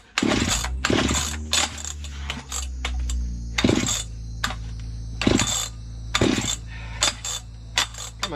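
A vintage 1970s Stihl 031AV chainsaw engine with a carburetor needing adjustment sputters and revs in uneven bursts, loud and close, with clanking metallic handling noises between the surges.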